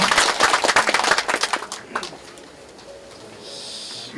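Applause from a seated audience welcoming association members at a clan society's annual general meeting, a dense burst of clapping that thins out after about two seconds into quiet room tone.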